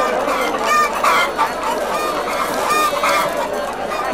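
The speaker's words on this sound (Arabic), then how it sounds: "خذ دجاج بلدي، تعالوا لدينا جميع انواع الدجاج." Local free-range chickens crowded at a market cluck and squawk loudly and without pause, a dense, close chorus of overlapping fowl calls.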